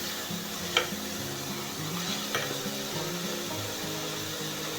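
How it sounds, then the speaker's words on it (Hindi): Minced meat (qeema) frying in a pan for aloo qeema, a steady low sizzle with a continuous mechanical hum underneath and a couple of brief sharp clinks of a spoon stirring against the pan. "कीमे का कलर चेंज हो चुका है, कीमा हमारा अच्छी तरह भून चुका है"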